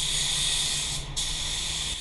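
A spray gun sprays waterborne metallic car paint onto a panel in a loud, close, steady hiss that briefly dips once mid-pass and then continues.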